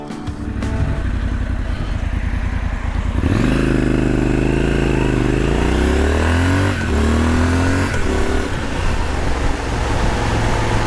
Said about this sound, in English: Get it up into the rev range and give the throttle a whap